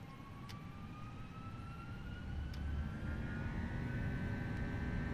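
Jet engines of an FSLabs A321 spool up to takeoff thrust in a flight simulator game. The roar is steady and broad, with a rising whine that climbs in pitch, close and continuous, with no speech.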